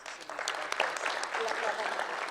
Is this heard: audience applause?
yes